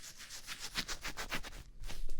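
Soft, rapid scratchy rubbing of foam right up against the microphone, a steady rustling swish lasting a couple of seconds.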